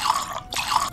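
Water pours into coffee in the Espresso Tycoon video game, a bright liquid splashing and trickling sound that cuts out briefly midway and then resumes, loud and close with no talking.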